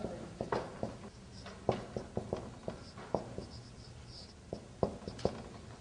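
Chalk or marker strokes on a board during an Arabic grammar lesson, a run of short sharp taps and scrapes in irregular bursts, close and fairly clear, with no talking.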